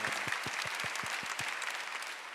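A church congregation claps during a Sunday worship service in rhythmic unison, about eight evenly spaced claps that stop abruptly, followed by a short murmur of the room.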